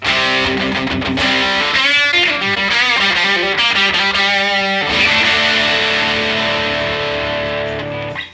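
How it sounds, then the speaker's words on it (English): Electric guitar through a Rat distortion pedal and a graphic equalizer set to scooped mids plays a riff with bright, crisp tone and thinned-out middle, loud and continuous, with a brief pause near the middle. "now we'll turn on the graphic equalizer with a kind of a scooped mids setting"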